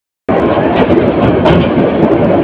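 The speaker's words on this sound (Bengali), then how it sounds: "এই যে টঙ্গী স্টেশন ক্রস করে যাচ্ছে ট্রেনটি" After a moment of silence, the Chattala Express rolls slowly through Tongi station without stopping, a loud close rumble of wheels and carriages filling the rest.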